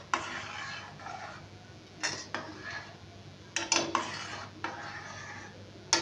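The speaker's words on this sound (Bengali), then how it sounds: "হালকা করে একটু নেড়ে দিচ্ছি।" Noodles boiling in a pot of water while being lightly stirred, close metallic clinks and scrapes of a utensil against the pot at irregular intervals over a soft background bubbling hiss, with no talking.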